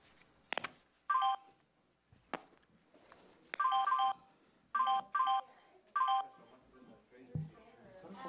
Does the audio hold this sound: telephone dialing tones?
yes